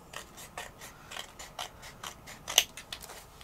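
Scissors cutting around a sheet of patterned craft paper from a 12x12 pad, a series of crisp snips at an uneven pace with one sharper snip near the end, close and alone.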